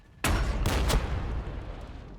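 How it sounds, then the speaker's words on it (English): Cannon shot in a Warhammer 40,000 battle game between Astra Militarum and Tyranids: a sudden loud blast followed by a second quick report and a rumbling decay, no talk. "Cannon shot."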